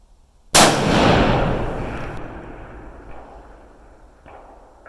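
A single loud rifle shot cracks out at the target range, fired with a hunting round at steel targets, then a long rolling echo decays over several seconds with a faint distant ring near the end.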